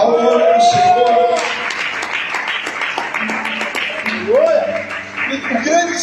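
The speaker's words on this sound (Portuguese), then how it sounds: "você pode aplaudir ao nome do Senhor" Church congregation clapping for the Lord's name, a steady wash of hand claps beneath a voice, with talk or singing running over it throughout.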